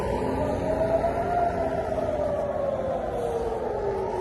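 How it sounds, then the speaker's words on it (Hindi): An air raid siren in Tel Aviv during a missile alert wails in a long, slowly falling tone over a dense rumble of background noise, sounding distant and sustained. "तो पूरे टेल अवीव में सायरन बज चुकी हैं"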